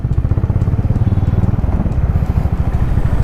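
Several motorcycles on a group breakfast ride toward Kudremukh approach with a loud, steady rumble of engines, continuous and close with a throbbing pulse.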